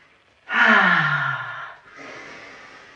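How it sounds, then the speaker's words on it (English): Deep deliberate breath during a slow somatic grounding workout, a long audible inhale followed by a softer, airy exhale, close and alone with no talk. "Breathing in through your nose. Exhaling through your mouth if that's possible."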